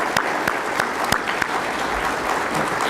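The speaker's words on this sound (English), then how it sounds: "Let's give them a round of applause." Audience applause at a civic gathering with a city mayor, a dense steady patter of many hands clapping with a few sharper individual claps standing out, filling the clip at even volume.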